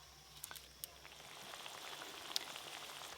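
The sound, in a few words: fish curry gravy boiling in a pan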